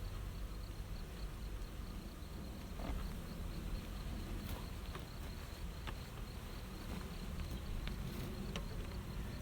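Bees swarm close around a hive in a constant, enveloping drone, faint and steady, with a few light taps and clicks scattered through.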